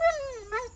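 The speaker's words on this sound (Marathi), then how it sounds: "तर इथं आमच्या इथं बोलकं कुत्रं आले" A dog nearby gives a single drawn-out, talking-like vocal whine that slides downward and then lifts briefly at the end, lasting under a second.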